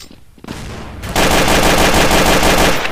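Rapid automatic gunfire from Counter-Strike: Source on the Dust 2 map, a loud sustained burst kicking in about a second after some quieter shots and continuing steadily to the end.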